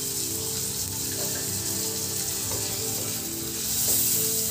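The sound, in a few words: frying onion, ginger, garlic and tomato in a pan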